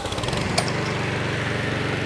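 A Honda Izy petrol lawn mower engine catches and settles into a steady, loud, close idle hum after a brief burst at the start, running alone without talk.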